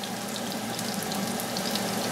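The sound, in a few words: tuna searing and sizzling in a hot pan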